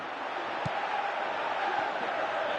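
A virtual stadium crowd in the football video game PES 2018 roars in a steady, dense wash that rises slightly as a Tottenham comeback builds, with one brief thud near the start.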